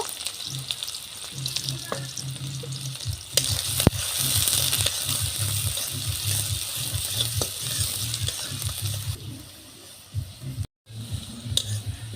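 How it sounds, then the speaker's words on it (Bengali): Onions fry in soybean oil in a wok for a spotted snakehead head bhuna, a dense close sizzle with occasional stirring clicks over a low steady hum, briefly cutting out near the end before resuming. "আর এখন দিয়ে দিলাম পেঁয়াজ। তো পেঁয়াজগুলো ভালো করে ভেজে নেব।"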